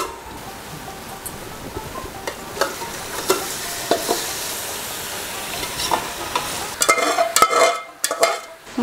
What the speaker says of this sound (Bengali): এখন আমরা মাংসটা দিয়ে দিব পেঁয়াজের মধ্যে